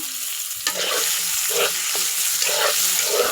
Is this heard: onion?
yes